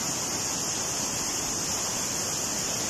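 A strong waterfall roars with steady, loud rushing water, a continuous hiss that fills the space without pause.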